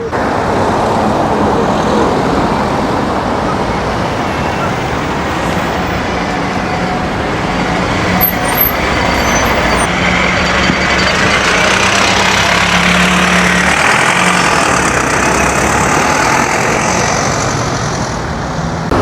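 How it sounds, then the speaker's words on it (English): The PL2 bus bound for Kilkenny passing on the road, a steady broadband engine and tyre rumble that swells gradually and holds loud and near for the whole stretch, with no voices. "There's a bus coming down my direction now. It's the PL2 bus bound for Kilkenny from Bellingham."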